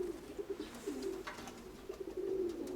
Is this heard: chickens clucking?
no